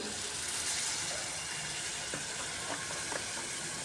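Spiced potatoes for a masala potato rice fry with a bright, steady sizzle, then a few scattered clinks and splashy bursts as water goes into the pan, heard up close with no voices.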